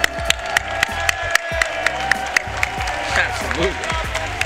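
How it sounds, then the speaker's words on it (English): Scattered applause and some cheering come from the audience at a Guilty Gear Strive top eight finals at Combo Breaker 2023, sitting under an announcer's amplified voice with sharp individual claps standing out. "Can we first get a round of applause for all of our top eight for Guilty Gear Strive?"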